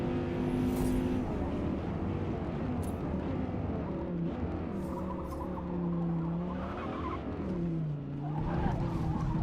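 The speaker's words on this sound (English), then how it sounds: "I accidentally overbraked there" Car tires skidding after overbraking in a racing video game, sustained squealing tones sliding in pitch over a continuous engine hum, moderately loud.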